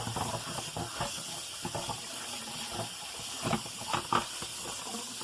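Tap water runs steadily over a kitchen strainer being rinsed, a constant hissing spray with a few louder splashes toward the end, close and alone without talk.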